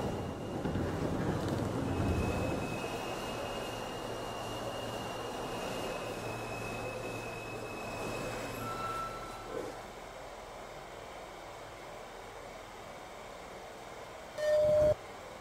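An R160A subway train on a Queens-bound A Express run in Trainz Simulator 2012 rumbles steadily along the track with a low, windy drone and a faint whine, ending with a short sharp tone.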